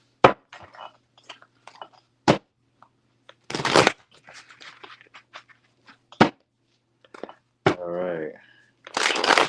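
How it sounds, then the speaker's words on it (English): A deck of cards is shuffled in a tarot reading setting, several short crisp riffle bursts and one longer fluttering riffle between bits of close speech, sharp and near the microphone. "that was a good shuffle"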